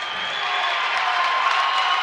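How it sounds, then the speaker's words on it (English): A college wrestling crowd at a Big Ten championship bout, Purdue versus Indiana at 149 pounds, roars in steady, dense cheering and applause that stays loud and even throughout. "The crowd gets into it."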